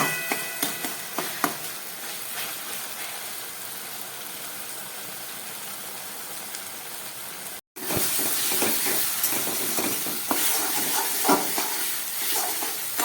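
Taro leaves sautéing in a pan, a steady close sizzle with frequent stirring scrapes and clicks; after a brief cut the frying grows louder and busier, with more crackle and spoon strikes.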